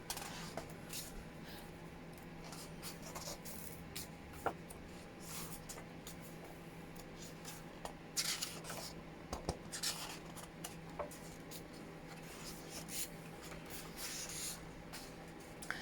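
Thick paper pages of an illustrated wild flower book are turned one after another, giving soft rustling swipes and sharper crisp flicks close by in a quiet room, with no talking.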